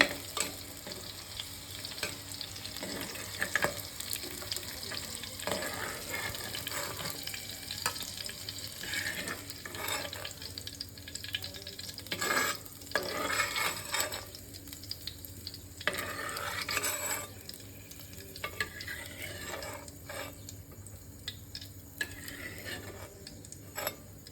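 Green chillies fry in oil in a pan for a Tirunelveli sodhi, a faint steady sizzle with intermittent stirring and scraping, quiet and close without talk.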